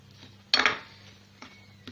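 A spoon clinks against a bowl while batter with starch and baking powder is mixed, one sharp close metallic clatter followed by a softer knock, with quiet room hum between.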